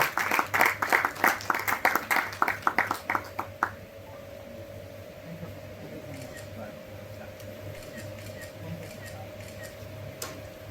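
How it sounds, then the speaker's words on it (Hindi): Audience claps to welcome a speaker at a Buddha Jayanti lecture on higher education, starting with quick, rhythmic claps that fade after a few seconds into a quiet, humming room. "जोरदार तालियों से सर का स्वागत।"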